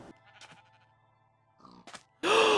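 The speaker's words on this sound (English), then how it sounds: "A black sheep!" A bleating sheep in the Minecraft video game, with a few short nasal bleats over quiet game sounds and a loud bleat at the end.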